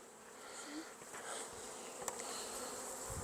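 Honeybees drone steadily in an open hive fed with a pollen patty, a close, continuous buzzing with no voices over it.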